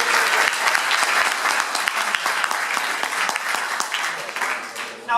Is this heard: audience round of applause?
yes